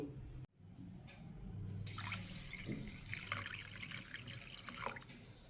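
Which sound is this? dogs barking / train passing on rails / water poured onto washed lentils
water poured onto washed lentils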